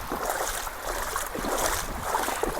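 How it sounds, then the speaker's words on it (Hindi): Floodwater from incessant rain rushing across farm fields past an embankment, a steady broadband roar of flowing water with wind-like wash, continuous and fairly close, no voices. "ये बंद बनने के बावजूद इस तरह पानी खेतों में जा रहा है।"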